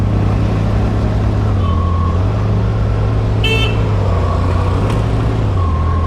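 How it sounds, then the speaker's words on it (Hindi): Vehicles stream past on a busy road in steady, loud traffic, with a single short horn toot partway through and a low engine drone throughout. "पीछे से निरंतर गाड़ियां आए जा रही हैं"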